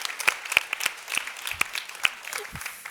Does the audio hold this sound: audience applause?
yes